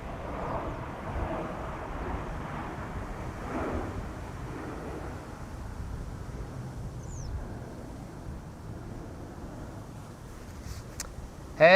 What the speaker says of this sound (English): This is of course an Air France A220 flight 1436 arriving from Paris-Charles de Gaulle, 45 minutes on the way